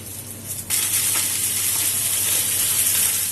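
Ghee with a little oil sizzles hard in a cooking pot, a loud steady frying hiss that starts abruptly and keeps going without talk.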